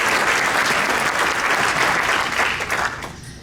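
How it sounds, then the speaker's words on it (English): Audience applause at a Rotary Club meeting, a full, continuous roar of clapping from a crowd that stays loud for a few seconds and then tapers off toward the end. "Clap if you agree with that"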